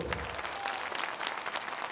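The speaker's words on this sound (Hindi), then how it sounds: "देखो गड़गड़ा के ताली बजा दे सब लोग।" A large crowd at a public event in Gorakhpur claps loudly and steadily, a dense, unbroken wash of applause close to the microphone with no voices over it.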